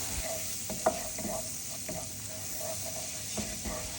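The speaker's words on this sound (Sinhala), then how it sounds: "මම ඒකට පාන් පිටි තේ හැන්දක් එකතු කරලා ඒක බටර් එකත් එක්ක හොඳට කලවම් කරගන්නවා" A spoonful of flour is stirred into melted butter in a pan, with a soft continuous sizzle broken by repeated scraping strokes of a spoon, quiet and close.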